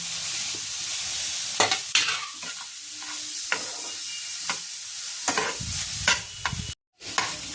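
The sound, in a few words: paneer being stirred with fried masala in a pan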